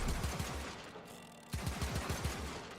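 Rapid automatic gunfire from a secondary weapon in a video game, two fast bursts of sharp repeated shots separated by a short pause, loud and close with no voices.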